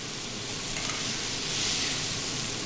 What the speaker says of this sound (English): So I'm gonna keep a quick sear.